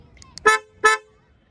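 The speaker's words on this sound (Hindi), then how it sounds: "अगर आप अनलॉक लॉक भी करते हो ना तो ये बहुत तेज़ हॉर्न बजते हैं इसके" A Hyundai Creta diesel car horn honks twice as the car locks or unlocks, two short, loud, close blasts about a third of a second apart, followed by quiet.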